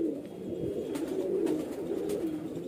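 Highflyer pigeons cooing softly at close range, a few low, throaty, rolling coos over a quiet background.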